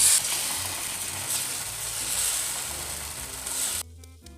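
Carrot and wheat dosa batter poured onto a hot pan gives a continuous close hiss and sizzle, steady for about four seconds before cutting off abruptly, with no voices.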